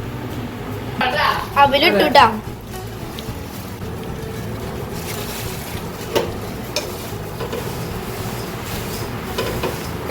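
An electric fan runs in a home kitchen, giving a steady whirring hiss beneath a person's talking and the clatter and sizzle of cooking.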